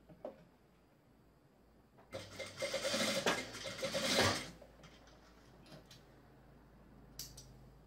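A sewing machine stitches a short seam on a knit chemise dress, a steady mechanical whir that runs for about two seconds before stopping. A few soft handling clicks follow in a quiet room.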